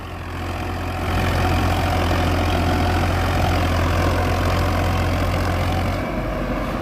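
A new Farmtrac 60 EPI tractor engine runs steadily nearby with a tiller attached, a loud, even low rumble with a constant throb that holds without pause and eases slightly at the end.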